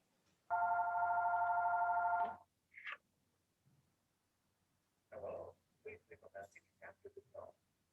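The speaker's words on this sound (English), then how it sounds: "No, that's our phone." A telephone in a classroom gives one long electronic ring of close to two seconds, loud and steady, then goes silent. Voices follow a few seconds later.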